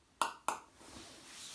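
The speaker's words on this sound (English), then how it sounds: "So for the camera, we're getting tapping in the room." Two sharp taps or knocks a fraction of a second apart ring out in a quiet room, followed by faint low rumble and stillness.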